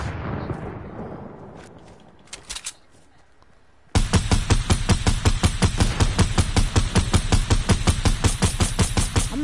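Rapid automatic gunfire in a PS4 shooter game, loud and close, starts abruptly after a few quiet seconds and a couple of short bursts, then continues as a steady fast rattle.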